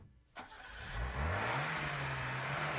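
A car engine starts with a sharp click, then revs up to a rising, sustained hum that stays loud and steady. It is heard alone with no voices.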